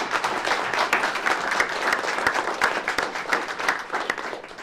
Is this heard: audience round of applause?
yes